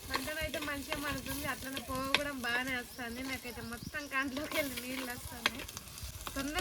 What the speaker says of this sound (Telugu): ఉల్లిగడ్డ పేస్ట్ అయితే అందులో వేసుకొని కొన్ని మెంతులు జీలకర్ర కూడా వేసుకొని మంచిగా ఫ్రై చేసుకొని